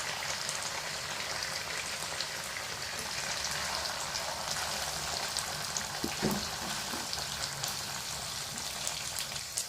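Onions frying in oil for a masala fish curry: a steady, dense sizzle and crackle continuing throughout at moderate level, with a few brief louder pops near the middle and no talking.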